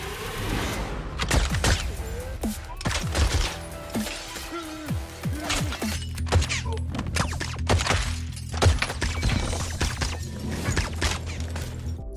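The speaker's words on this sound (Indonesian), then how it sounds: "Lalu aksi tembak-menembak pun terjadi" An action film shootout involving a special agent, with rapid gunshots and crashing impacts in irregular bursts over a dense, rumbling soundtrack.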